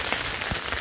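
Steady rain patters densely on a tent surface during a windy wild camp on Dartmoor, with a constant hiss and a few heavier drops.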